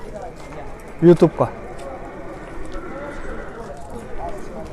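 Horses at the Sokuluk livestock market: a few hoof clops and snorts stand out near the one-second mark amid a busy market murmur, while someone talks over the scene.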